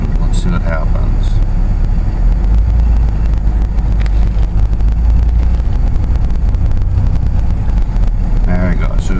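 A 2002 Toyota 4Runner idles and is shifted into drive, its engine running as a loud, steady low rumble throughout, with a person talking over it at points.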